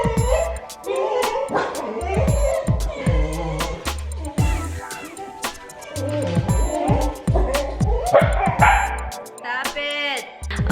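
Several dogs bark and yip close by in loud repeated bursts, mixed with whimpers and excited high yelps, the barking running throughout with a person's voice heard among it.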